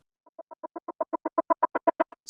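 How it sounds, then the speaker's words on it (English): A choppy, staccato sample run through a 16th-note stutter pan effect from the Portal plugin: a rapid, even train of about sixteen short bursts that swell steadily louder, ending with a brief bright hiss. "I just like this stutter because this is a very choppy sample"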